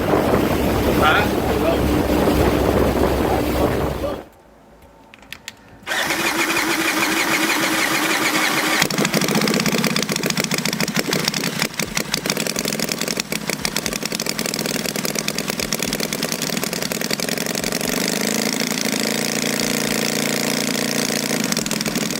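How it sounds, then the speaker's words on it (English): A small scale-model V-twin engine starts after a brief pause and runs steadily with a throbbing, buzzy note, wind noise buffeting the microphone throughout. "that lovely V-twin sound"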